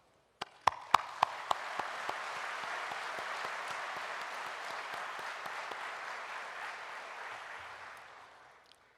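A crowd applauds steadily for several seconds at a Korean presidential speech at a social economy fair, opening with a few sharp individual claps before the sound swells into a dense, sustained ovation that slowly fades.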